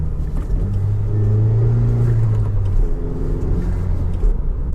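A Honda Civic Type R FK2 drives along on a winter road, its engine a steady, close rumble with a slowly shifting tone and no voices.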